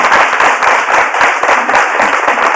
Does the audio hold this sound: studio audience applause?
yes